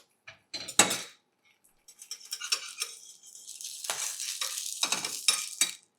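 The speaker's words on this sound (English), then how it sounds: "this is a steel pan." A steel pan being handled while cooking Kagina eggs, with a few sharp metallic clinks and scrapes followed by a longer run of rattling, clattering handling noise, close and fairly loud.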